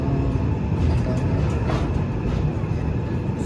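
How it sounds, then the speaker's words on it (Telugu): A passenger train bound from Vijayawada for Rameswaram rolls on again after a stop, near Thanjavur Junction, giving a steady, close, droning rumble heard from onboard, with faint rail noise and no talking. "సో ఇప్పుడైతే మళ్ళీ ట్రైన్ స్టార్ట్ అయిపోయింది"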